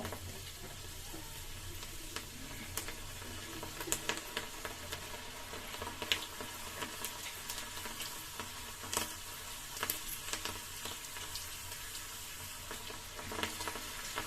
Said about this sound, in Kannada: ಬಬಲ್ಸ್ ಎಲ್ಲವೂ ಕೂಡ ಕಮ್ಮಿ ಆಗೋ ಗಂಟ ನೀಟಾಗಿ ಫ್ರೈ ಮಾಡ್ಕೋಬೇಕು